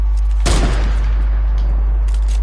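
A single loud gunshot or blast in a PS4 shooter game rings out near the start and decays into a rumbling tail, over a steady low hum.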